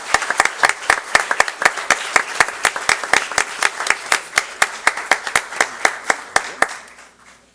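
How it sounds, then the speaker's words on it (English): A room at a school board meeting applauds as high school student athletes enter: a modest group claps in a clear, steady rhythm of sharp distinct claps that fade out near the end. "How about a big round of applause as they enter the room?"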